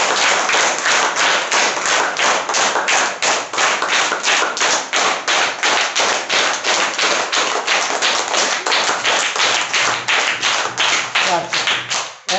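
Fourth-class students in a primary school clap in unison, a loud even beat of about three claps per second sustained for over ten seconds, close by, with a few voices underneath.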